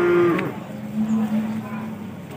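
Cattle lowing at a busy livestock market in Pati, with a long low moo drawn out over the crowd murmur and a shorter call near the start, loud and close.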